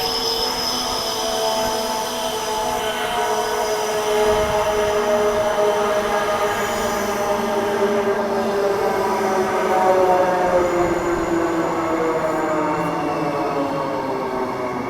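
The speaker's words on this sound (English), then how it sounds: "Here comes the train." A Perth underground train pulls into a station, its rising electric whine and screeching wheel tones swelling and then easing as it slows, loud and sustained.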